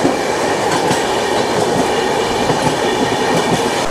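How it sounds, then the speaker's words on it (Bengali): The Durgiyana Express runs nonstop between Asansol and Dhanbad, a loud, steady roar of wheels on rails heard close from on board, with faint rhythmic clickety-clack beneath the constant rumble. "ট্রেনটা ছেড়ে দিল আসানসোল জংশন"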